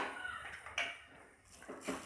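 A lid lifted off a pan of beetroot fry cooking on the stove, with a few soft metallic clinks and scrapes of the lid and pan, fairly quiet and close.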